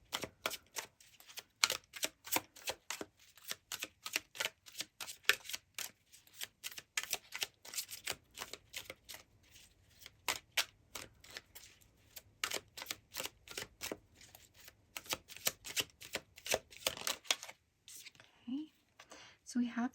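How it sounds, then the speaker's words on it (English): Tarot cards being shuffled close up, a long run of crisp riffling and snapping bursts in an irregular rhythm, with faint whispery tones and a brief soft voice at the very end. "let's get you a couple tarot cards"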